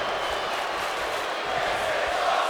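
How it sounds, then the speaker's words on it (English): Wrestling event crowd at an SCW show producing a continuous roar of cheering and shouting throughout, steady and dense with no clear breaks. "And the crowd is loving this match."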